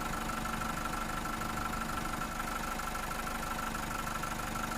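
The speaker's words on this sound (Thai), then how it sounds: "เราติดเครื่องยนต์อยู่" A car engine idles steadily at close range during a battery test, a constant low rumble with a faint hum and no voices over it.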